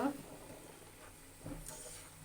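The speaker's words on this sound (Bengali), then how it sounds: "এবার আমি লাউটা ভেজে নেব" Bottle gourd with shrimp fries in a pan as a quiet, faint sizzle with a couple of soft stirring scrapes over the short stretch.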